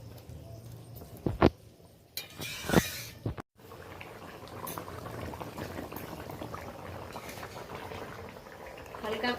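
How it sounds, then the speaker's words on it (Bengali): A pan of koi fish curry bubbles on the stove in a steady low simmer, with a few sharp knocks and clatters near the start before the boiling settles into a continuous murmur. "তরকারিটা বেশ ভালোভাবে ফুটে গেছে।"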